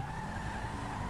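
Tyres skid and squeal in a continuous screech from a car in GTA V with the LSPDFR police mod, loud and close over a droning engine.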